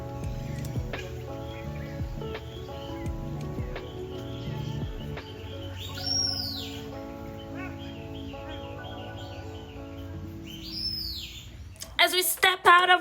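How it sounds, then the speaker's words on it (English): Birds chirp and squawk in a Florida Keys bird sanctuary, a busy mix of trills and calls over a steady insect-like hum, with louder squawks near the end. "Some birds love to hide in plain sight, and yes, you might hear some surprise squawks, chirps, and even a call that sounds like laughter."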